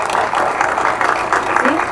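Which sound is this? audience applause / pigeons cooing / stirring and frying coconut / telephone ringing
audience applause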